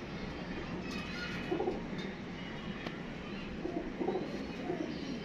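Pigeons coo in soft, repeated low calls from a loft, fairly close, over a steady background hum.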